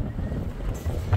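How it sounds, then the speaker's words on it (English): Strong wind buffets a Sprinter overlanding van, a steady low rumbling roar with gusty microphone buffeting throughout, loud and close, with no talking. "It's too windy."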